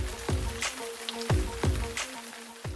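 Rain in Bukovel in the Carpathian mountains during the fall, drops striking a surface in irregular close taps and splats over a soft steady background.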